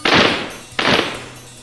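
Two sharp broadband gunshot-like bursts, each with a long decaying tail, spaced under a second apart as a sound effect in a children's ABC song, loud and alone with no talking.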